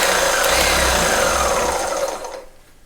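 An electric Interpack hydraulic pump rated to 10,000 PSI drives an OTC 30-ton cylinder ram in a press. It makes a loud, steady, broadband mechanical whir that fades out over the final half second.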